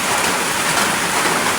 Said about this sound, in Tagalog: malakas ang ulan eh.